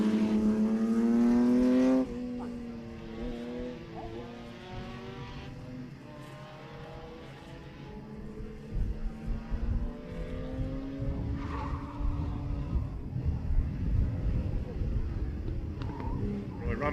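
A Holden race car at Wakefield Park spins its wheels on the grass at the bottom-of-the-hill chicane, with no locked differential. The engine drones and rises steadily under race commentary, growing louder and rougher toward the end.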